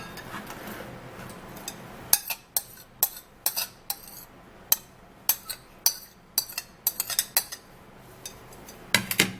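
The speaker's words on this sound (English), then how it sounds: "I'm also going to be putting just a little bit of water into this garlic and turn it" Garlic being stirred with a little water, a spoon clinking and ticking against a bowl in a steady run of sharp taps, close and distinct, with no talking.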